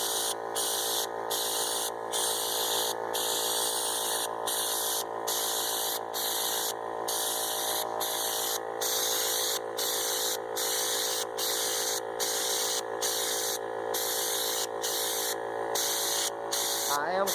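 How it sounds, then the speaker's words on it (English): A spray gun applies Raptor bed liner to a truck in a steady, close, continuous hiss with a pulsing rhythmic texture, running under faint background sound throughout. "I am spraying a little bit closer than what they recommend"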